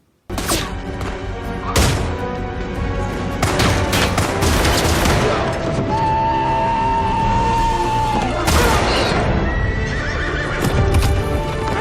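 A Gatling gun fires during a battle in a Magnificent Seven Western film, with loud rapid gunfire mixed with horses galloping and neighing and a dramatic score, all dense and close.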